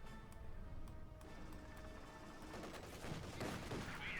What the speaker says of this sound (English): He's trying to shoot light tanks and Pumas with a B4.